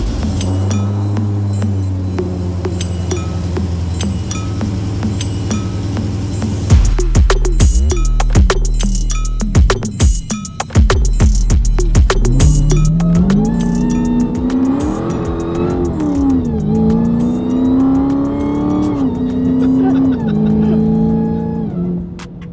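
A Dodge Hellcat fitted with a 4-link suspension and stock wheels and tires starts with a steady idle, then clinks and clunks before its engine revs and pulls away, loud and near, with rising and falling engine tones as it drives on the road.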